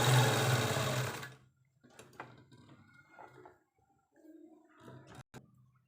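A sewing machine stitches lining onto a baby frock in a fast, steady whir for just over a second, then stops; quiet handling clicks and rustles of fabric follow.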